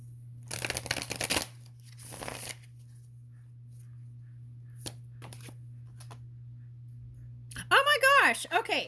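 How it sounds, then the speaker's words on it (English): Two short bursts of rapid riffling card shuffles close by over a low steady hum, with a few scattered taps and a voice at the end. "Let me shuffle this deck."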